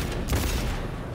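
A rapid burst of gunfire from the Cyberpunk 2077 video game crackles in a dense, sustained volley over a low boom.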